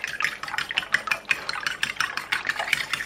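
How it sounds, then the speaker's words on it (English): Eggs and vanilla extract being whisked in a bowl for jubilee cakes, a steady quick rhythm of light tapping and swishing strokes, close and continuous with no talk. "And then we're just going to whisk that up"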